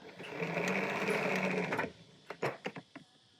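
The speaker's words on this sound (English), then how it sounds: "it's as simple as tightening the spring with the handle to get the right level of tension" A handle cranks to tighten the tension spring of a Pro X Extreme air hose reel, giving a fast, even ratcheting whir for about two seconds, then a few separate clicks and knocks.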